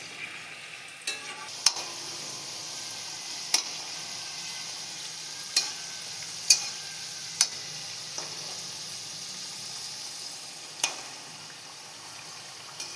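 Labanga, a clove-sealed Bengali sweet, frying in a pan of oil with a soft continuous sizzle, punctuated by several sharp scattered clicks of a spatula or utensil turning the pieces.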